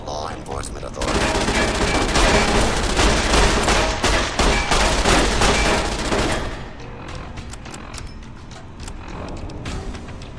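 Automated turrets in Fallout New Vegas pour out a dense, loud burst of rapid gunfire for several seconds, then the shooting thins to scattered, sharper shots with lighter mechanical clatter.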